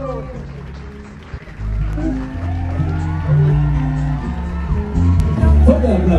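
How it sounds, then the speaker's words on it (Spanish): Wedding reception guests applaud and cheer as the newlyweds Violeta and Raúl make their entrance, with steady clapping and crowd noise mixed with music that grows louder over several seconds, while a voice speaks over it. "Fuerte aplauso, bienvenidos."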